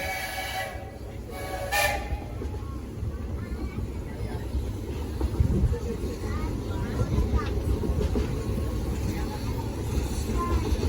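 Riding aboard the Walt Disney Railroad steam train, a low rumbling, rattling clatter of the cars rolls on continuously, with a brief sharp whistle-like burst near the start and a voice talking faintly over the noise.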